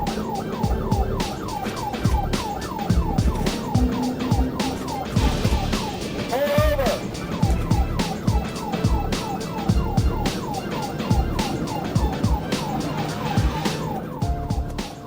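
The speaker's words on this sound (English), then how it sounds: "The trooper activated the vehicle's emergency lights and sirens." A loud police siren wails continuously, its rising and falling tones cycling over the rumble of a car engine, with no talking.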